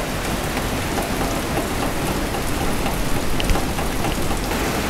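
Heavy morning rain from a typhoon pours down as a dense, constant hiss with no pauses, close and loud throughout, with no voices.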